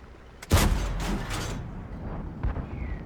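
Tank cannon fire from an SU-85I in a video game battle: one sharp close blast followed by a rumbling tail and a fainter distant shot, no talking.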